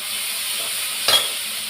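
Tomato and garlic sauté with rock salt in a pan, a steady bright sizzle with a brief scrape of stirring near the end.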